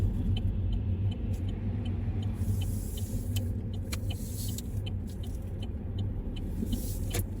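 Car driven slowly in second gear on a driving test route in Milton Keynes, heard from inside the car as a steady low engine and road rumble, with faint ticks and clicks above it.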